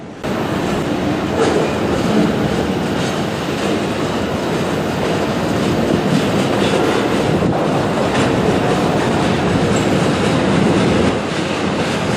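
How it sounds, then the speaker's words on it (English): A loud Union Pacific freight train rumbles past continuously, with steady wheel noise and faint rhythmic clacking on the rails throughout. "As this Union Pacific freight train continued to roll by us"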